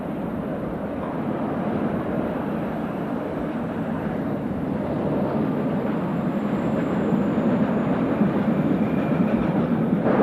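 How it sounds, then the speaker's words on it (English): A 1976 rail tour of Mark I suburban coaches arrives behind a Class 31 diesel locomotive, heard as a loud, steady rumble and drone of engine and wheels that builds slightly, with no talk. "a rail tour formed of Mark I suburban stock arrives behind a Class 31 locomotive"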